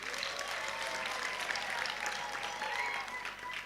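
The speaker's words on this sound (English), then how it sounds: "please give yourselves a big round of applause" Steady applause from a graduation audience at Clarke International University fills the room, a dense, even wash of many hands clapping together for several seconds with no speech over it.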